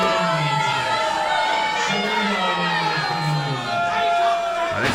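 A wrestling arena crowd during a Royal Rumble elimination match reacts in disapproval, a dense, sustained roar of many voices with scattered shouts and whistles, steady and loud throughout with no clear pauses.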